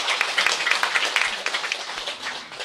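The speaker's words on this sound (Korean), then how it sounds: "기자님에게 다시 한번 뜨거운 박수 주시기 바랍니다." Audience applause honoring a reporter: dense, steady clapping from a crowd that lasts the whole short stretch without any voices over it.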